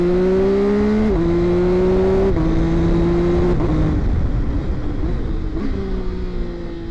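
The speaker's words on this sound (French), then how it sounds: "Le bruit du moteur est sympa" An MV Agusta Enduro Veloce 900 motorcycle engine revs in several rising bursts, each shifting pitch, growling loudly up close with no talking.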